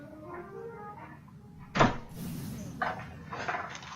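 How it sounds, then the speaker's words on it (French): A door is shut in a home, giving one sharp, fairly close thump midway, followed by softer rustling and shifting sounds over faint background noise. "je vais fermer la porte"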